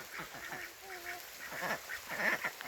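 Ducks quack softly in a short run of calls in an outdoor garden setting, fairly close but not loud, with rain-soaked surroundings and no talk.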